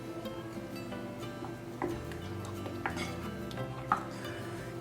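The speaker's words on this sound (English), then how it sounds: "And now I'm gonna mix all of this together" Greek yogurt dough being stirred in a bowl by hand, soft scraping and mixing with a few sharper clinks of utensil against the bowl, close and fairly quiet, no talking.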